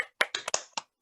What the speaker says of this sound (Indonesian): Oke, tepuk semangat pertama.